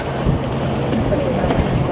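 Wind rumbling and buffeting against the microphone, a steady low roar throughout.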